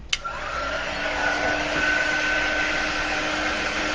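A dryer blows steadily over wet chalk ink, giving a constant whooshing whine that starts after a short click and holds at an even level for several seconds, with no talking.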